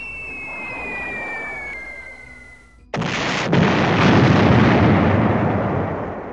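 A salvo of bombs bursting in B-17 Flying Fortress Leader: a sudden loud blast cuts off a high whistling descent, then a dense, sustained roar of explosions rumbles on to the end.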